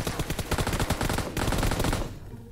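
Machine gun fire in the video game PUBG Mobile during a deathmatch: loud, close, rapid automatic bursts with a brief break midway, then fading out at the end.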